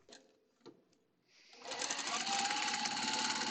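A sewing machine stitches a quarter-inch quilt seam, starting with a few soft clicks and handling noises and then running in a steady, fast mechanical whir that gets louder over the last two seconds.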